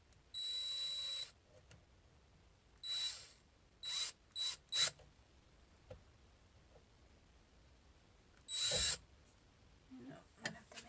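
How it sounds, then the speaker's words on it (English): Short bursts of a power drill boring a pilot hole into hardwood, a few longer runs and several quick spurts, close by, with quiet pauses between. "I'm just going to try to drill as straight as I can for a pilot hole."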